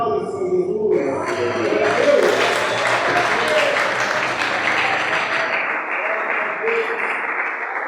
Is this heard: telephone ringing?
no